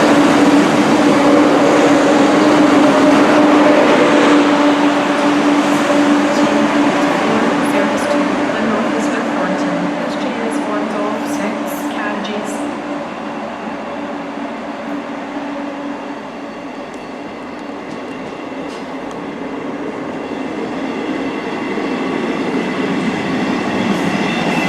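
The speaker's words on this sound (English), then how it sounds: "So our train should be arriving now to take us to North Queensferry" A Class 158 diesel train pulls into a station near the Forth Rail Bridge in Scotland, its loud engine drone and steady wheel rumble continuous throughout, easing slightly mid-way, with a steady tone and occasional high squeals.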